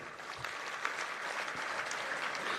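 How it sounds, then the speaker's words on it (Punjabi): Crowd at a live outdoor farmers' rally breaks into sustained applause, a dense wash of clapping from many hands heard at a distance without a break for the whole stretch. "ਬਾਪੂ ਦੇ ਨਾਂ ਤੇ ਤਾੜੀਆਂ ਲਾ ਦਿਓ ਯਾਰ ਇੱਕ"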